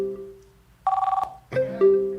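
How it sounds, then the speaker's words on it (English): Telephone ringing on a call-in radio line, a sharp burst of rapid trilling rings followed by steady electronic tones, loud and clear with no talk over it. "I still hear we still hear the phone ringing."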